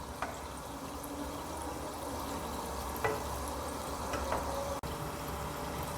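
Gulab jamun balls fry in hot oil with a constant dense sizzle, broken by a few light taps and scrapes as they are turned over.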